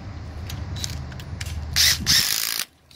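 Ratchet tightening a bolt with a T30 star bit while installing a coin lock on a shopping cart, a close, loud run of rapid pawl clicks ending in two sharper bursts before it stops.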